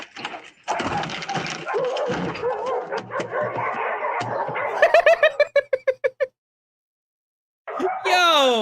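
A dog tied to a pole barks and yips in a series of sharp calls, first mixed under talk and other noise, then a run of distinct barks, a pause, and a final whining yelp.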